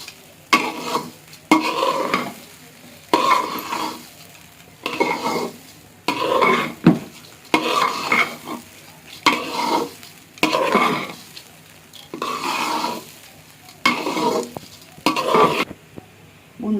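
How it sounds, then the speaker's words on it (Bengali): Rice stir-fried in a frying pan for fried rice, with about a dozen rhythmic scraping and sizzling strokes of the spatula in steady bursts, close up. "যখন দেখবো যে ফ্রাইং প্যান থেকে চালগুলো উঠে উঠে আসছে, তখনই বুঝতে হবে আমাদের ভাজা হয়ে গেছে চালগুলো"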